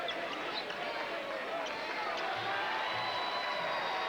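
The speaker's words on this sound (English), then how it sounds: "Crowd waiting with grand anticipation." Steady roar and murmur of a large basketball arena crowd at a 1993 college game between Louisville and Tulane, a continuous dense hubbub with faint whistles and shouts, no single voice standing out.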